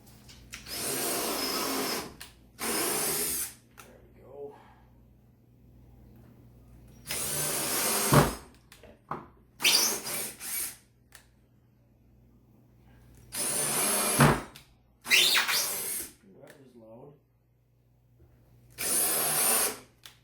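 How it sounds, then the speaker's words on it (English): A cordless drill whirs in short repeated bursts, pausing between each run as screws are driven in while building a small reverse osmosis system for maple syrup, fairly close and loud. "I'm going to have to run these in with a cordless drill"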